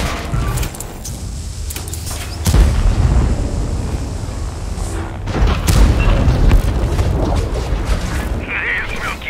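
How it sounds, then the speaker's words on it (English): A heavy booming explosion in a tank video game, with deep rumbling blasts, a sharp second impact midway, and sustained loud battle noise and mechanical clanks throughout. "What do you think the explosion will be when we take this plasma to it?"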